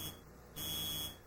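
A home smoke alarm sounds in a house where two children lie in bed, a steady, piercing electronic tone that swells louder for a moment before easing back, with no talking.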